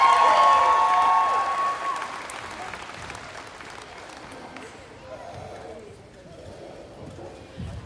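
Applause from the audience at the 2023 Ganado High School graduation for National Honor Society members, a loud sustained wash of clapping that gradually thins and fades, with crowd murmur and voices beneath it.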